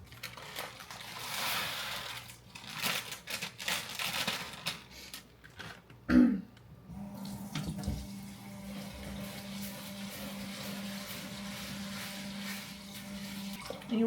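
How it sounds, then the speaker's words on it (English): Tap water runs and splashes while rice is rinsed in a bowl, a broken gurgling stream at first, then a sharp knock and a steadier, smoother flow with a low hum beneath. "You want to rinse until the water is clear."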